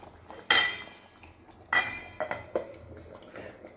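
A metal lid is set onto a pot of fish curry with coconut milk on a stove, giving two sharp clanks followed by a few lighter clinks and rattles, close and fairly quiet.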